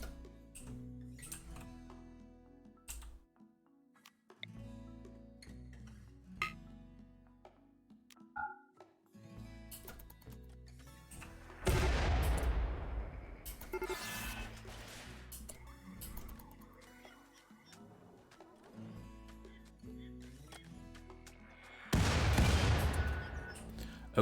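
Mortar fire rings out in a Warhammer battle game: two heavy bursts of booming detonations stand out, with scattered clicks and game sounds in between.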